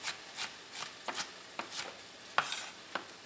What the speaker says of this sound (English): And we're just dicing this up